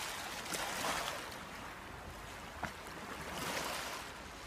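Calm, clear sea by the shore on an overcast, windless day with light rain, a steady soft wash of gentle water with faint lapping swells and a small splash, no voices.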